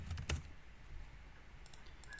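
Faint clicks from a computer keyboard, with a brief cluster of keystrokes at the start and a few more scattered near the end over quiet room background.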